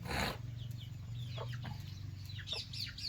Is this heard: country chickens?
yes